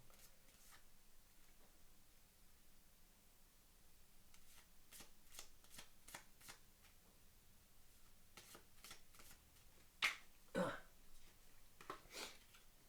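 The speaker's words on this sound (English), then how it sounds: "Hopefully I do a good job at shuffling this." A deck of playing cards being shuffled: soft riffling bursts, then several crisp louder riffles and snaps near the end, close by with no talking.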